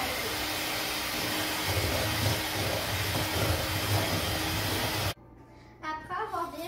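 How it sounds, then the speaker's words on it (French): An electric whisk beating cake batter for a tres leches cake, a loud steady motor whir that runs for about five seconds and then stops abruptly, after which a voice speaks. "avec un fouet électrique, on va brasser 5 minutes"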